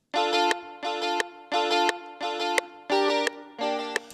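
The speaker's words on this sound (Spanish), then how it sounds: "tengo una guitarrita que suena más o menos así, también llevando los acordes, también con el patrón a contratiempo de cumbia." A guitar sound in FL Studio plays offbeat cumbia chords in a cumbia ranchera beat: six short, bright strummed chord stabs in an even, bouncing rhythm with brief gaps between them.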